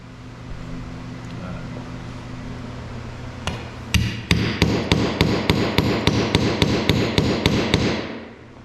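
Sharp, regular hammer blows punch holes through a car door armrest on a Ford Falcon interior, about a dozen evenly spaced strikes in the second half after a quieter stretch with a low steady hum.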